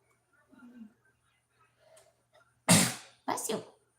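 Two loud, close sneezes burst out one after the other near the end, following a few soft murmurs and faint voice sounds in a quiet room.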